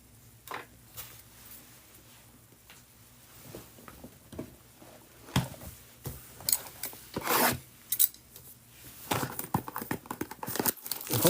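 A Panini Revolution trading card box is opened, with close crinkling, tearing and rustling of wrappers and cards. The sounds come in irregular bursts that grow busier toward the end, and no one talks.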